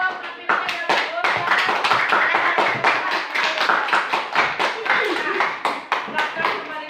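A class of students claps for a group that has just presented, the hand claps dense and fairly close, with voices mingling under the clapping before it thins out near the end.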